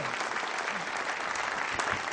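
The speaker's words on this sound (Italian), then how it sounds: "lascia che faccia l'applauso" A studio audience claps in a steady, full burst of applause, loud and continuous across the whole moment, with a few brief voices murmuring beneath.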